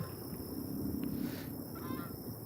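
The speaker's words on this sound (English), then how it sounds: "What do geese do? Or do geese quack?" Geese honk outdoors during a fishing outing, a few separate nasal calls rising from a faint, steady background hiss, somewhat distant.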